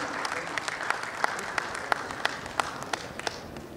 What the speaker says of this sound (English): May we have a huge round of applause, ladies and gentlemen.